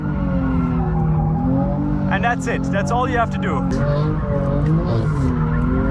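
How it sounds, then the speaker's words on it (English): A car doing donuts during drift practice, rear tires squealing and skidding over a steady engine drone, with someone talking continuously on top. "doing donuts because this is the easiest"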